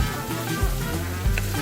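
Onions sizzle and fry steadily in hot oil for homestyle moong daal, a close, continuous crackle with low stirring thumps and no talking.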